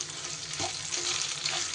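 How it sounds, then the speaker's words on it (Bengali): Potatoes frying in a pan over low flame with salt, giving a steady, close sizzle with a few soft stirring scrapes and no talk. "আলুটা বেশ কিছু সময় আমি একটু ভাজা ভাজা করে নেব।"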